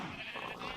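Minecraft sheep bleating on a sheep-shearing farm, one short, faint bleat heard alone with no talk.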